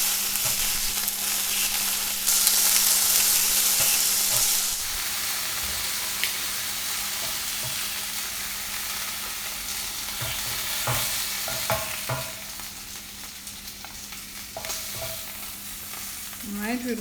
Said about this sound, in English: I'm just going to lift it here and just sear the sides.